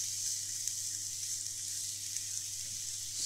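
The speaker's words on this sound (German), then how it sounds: "Dann kommen die Kartoffelwürfel und die Pilze dazu. Tun das schön anbraten" Potato cubes and wild mushrooms fry in butter in a pan as a strudel filling, giving a steady, even sizzle throughout at a soft, close level, with no talking.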